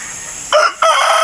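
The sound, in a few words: rooster crowing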